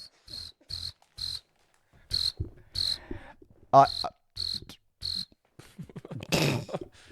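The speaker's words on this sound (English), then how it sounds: "Crickets." Rhythmic cricket chirps pulse in short evenly spaced bursts, with a brief croak-like sound and some rustling noise near the end.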